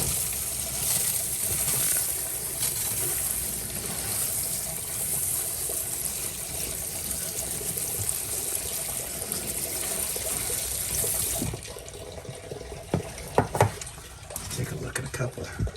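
Tiger's eye stones from a rock tumbler are rinsed under running water, a steady close gush for about eleven seconds. The flow then stops and gives way to a few clinks and handling sounds.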